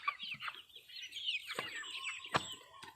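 Backyard flock of chickens clucking and chattering nearby, several overlapping birds with a few sharper squawks, moderately loud, with no talking.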